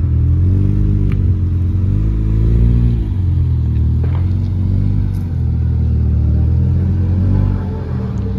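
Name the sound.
Honda Civic Type R engine revving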